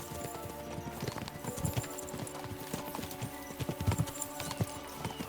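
Horse hooves clip-clop in the video game Kingdom Come: Deliverance II, a steady, quick trotting rhythm of many soft hoof strikes, fairly faint and continuous.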